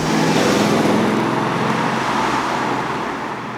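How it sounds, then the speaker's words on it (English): A Ford Mustang GT with a Coyote V8 cruises slowly around town, giving a steady low engine rumble and road roar from inside the car, fading slightly toward the end. "the special, very, very American noises the Coyote V8 motor makes"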